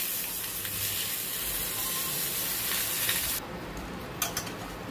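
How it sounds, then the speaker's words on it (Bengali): Mango pickle being stirred with sugarcane jaggery in a hot pan: continuous close sizzling and scraping that drops slightly quieter partway through, with a few sharp spatula knocks near the end. "দিয়ে ভালো করে নেড়ে নিচ্ছি।"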